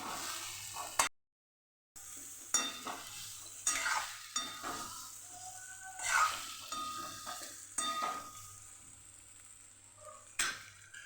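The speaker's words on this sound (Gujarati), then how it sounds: "હવે આપણે એને હળવા હાથે મિક્સ કરી લઈશું" Potatoes being gently stirred into toasted spices in a pan, with soft repeated scraping and stirring strokes over a low sizzle; close and fairly quiet, no voices.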